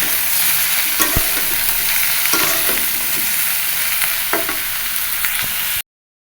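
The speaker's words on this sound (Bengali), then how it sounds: "বেগুন আর সয়াবিন একসাথে ভেজে নিব" Eggplant and soybean frying together in a pan, a loud, dense, steady sizzle up close with intermittent stirring knocks and scrapes, no one speaking, ending abruptly.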